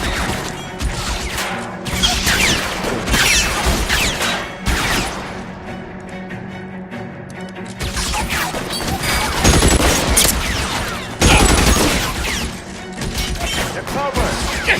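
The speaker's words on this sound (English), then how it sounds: "Lay down some covering fire!" Heavy gunfire in the game L.A. Noire, dense volleys of loud sharp shots and cracks stacked into a near-constant barrage, with shouted voices among the chaos.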